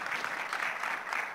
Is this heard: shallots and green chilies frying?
no